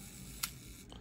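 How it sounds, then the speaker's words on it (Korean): A Yashica Minister I rangefinder film camera, set to bulb mode on self-timer with the aperture wide open, lets out one quick, faint mechanical click as the shutter opens, followed by a softer second tick in a quiet room. "하면 이렇게 셔터가 열리잖아요."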